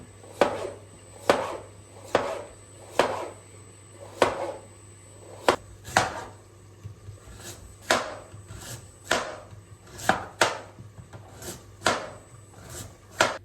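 A knife chops potatoes for maqluba in steady, evenly spaced strikes, about sixteen sharp close knocks with brief scraping between them, and no voices.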